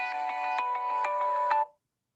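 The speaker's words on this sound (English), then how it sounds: "it is very strange that the phone always rings" A phone rings with a repeating electronic ringtone pattern of pulsed tones, steady and moderately loud, then cuts off abruptly into silence.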